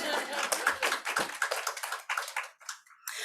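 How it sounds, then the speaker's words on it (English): Scattered claps break out from a small audience at a charter-school event. The uneven, individual hand claps are fairly close and quickly trail off into a few last stragglers. "That's when you're supposed to clap"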